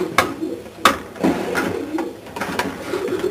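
Janssen racing pigeons cooing inside a loft, several soft repeated coos and wing flutters in an uneven rhythm, close and clear with no talk.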